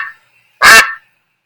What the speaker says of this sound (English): The ducks live in a pond at the park.